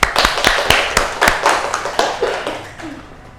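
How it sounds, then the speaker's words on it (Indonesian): Schoolchildren clap their hands at the close of a primary-school lesson, a short burst of close, loud claps that thins out and fades to quiet within a few seconds. "Tepuk tangan untuk kita semua."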